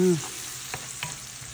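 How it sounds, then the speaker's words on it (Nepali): Onions fry in oil in a kadhai (wok), giving a steady close sizzle with a few soft spoon-scrape knocks while being stirred toward browning. "अब यसलाई रातो हुने गरी कराईमा भुट्नुपर्छ"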